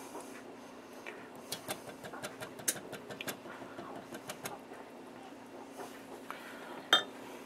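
A utensil scrapes and clinks against the bottom of a pot of boiling caramel on the stove in a quick series of light taps, faint and close, ending with one sharper knock and no talk.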